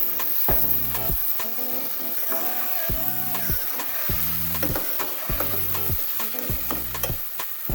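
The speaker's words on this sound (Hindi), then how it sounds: "सॉफ्ट होने तक फ्राई करेंगे। चॉप किए हुए टमाटर ऐड करेंगे" Chopped tomatoes fry in a pan for vegetable pasta, with a steady sizzle beneath them. A utensil scrapes and stirs in a regular rhythm of about two strokes a second, up close and with no talking.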